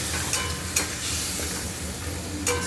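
Prawn curry sizzles steadily in a frying pan while a spoon stirs it, a constant close hiss broken by three or four scraping strokes against the pan.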